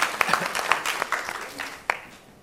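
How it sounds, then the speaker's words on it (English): Applause from a conference audience welcoming a speaker, fairly faint scattered clapping that thins out over a couple of seconds with a few separate claps near the end. "Please give a round of applause for Mr. Jay Tucker."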